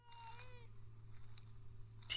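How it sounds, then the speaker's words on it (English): A cat meows in the point-and-click adventure game Memoranda, one drawn-out, wavering call near the start over a steady low hum. A faint click comes near the end. "Hier ist Marthas Katze"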